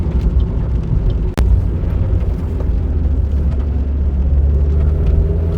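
A Suzuki SX4 crossover drives through hilly roads in Wales, a steady loud engine and road rumble from inside the cabin with one brief sharp knock, and no talk.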